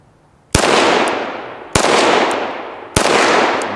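Three loud, sharp pistol shots fired with 5.7 ammunition at a 2-liter bottle outdoors in cold weather, each a sudden crack followed by a long, rolling echo, spaced about 1.2 seconds apart, with no talking.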